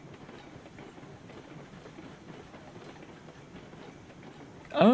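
A train in the Railroads Online video game rolls downhill with a soft, steady clickety-clack of wheels on rails, faint and even, ending in a sudden louder burst.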